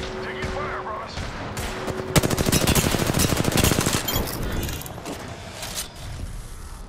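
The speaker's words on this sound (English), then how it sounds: "Taking fire, Ross." Rapid automatic gunfire in the battle royale game Apex Legends, loud bursts of repeated shots building in the middle and tapering off, with game voice callouts mixed in.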